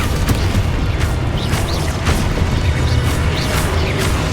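Expulso and Confringo explosion spells cast in Hogwarts Legacy, a dense run of booming blasts and crashing impacts over a steady rumbling battle din, with no talking.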